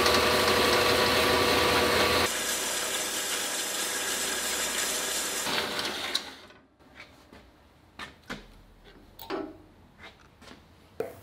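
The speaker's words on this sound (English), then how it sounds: "I'm gonna take this over to the bandsaw and create that miter" A bandsaw cuts a miter through steel tube, a steady loud whine that lasts about six seconds. It drops away into scattered clicks and clanks as the cut finishes and the piece is handled.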